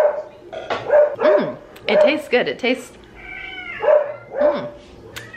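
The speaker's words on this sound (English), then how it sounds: "Excuse my dad's dog barking in the background" A dog barks repeatedly in short bursts somewhere nearby, mixed with cat-like yowling calls, while a person talks over it in the foreground.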